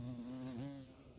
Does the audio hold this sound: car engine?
no